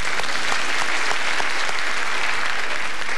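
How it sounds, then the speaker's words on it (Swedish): Audience at a Swedish school revue from 1984–1985 breaking into loud, dense applause, many hands clapping steadily and close throughout with no voices over it. "En stor applåd."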